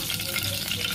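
Spices and lentils tempering in hot oil for upma give a brief, dense sizzle and crackle, close and steady.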